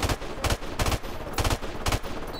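Machine gun fire in a multiplayer shooter game, loud close bursts repeating in a quick regular rhythm, five or six punchy volleys over a constant background of game noise.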